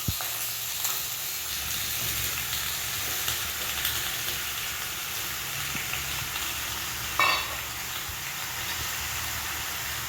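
Cut potatoes fry with chillies in a hot pan, a steady loud sizzle that keeps going throughout, with a few brief clinks and stirring scrapes.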